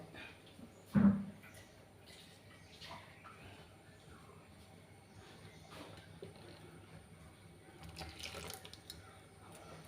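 Tap water runs into a kitchen sink as a mixer grinder jar is rinsed, a steady faint splashing with a brief louder knock near the start and some clatter, in a home kitchen with a clay cooking pot.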